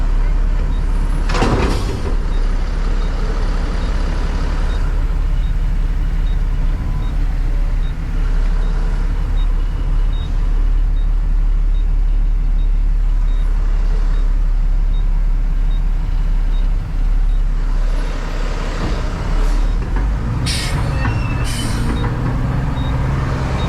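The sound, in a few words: truck idling on street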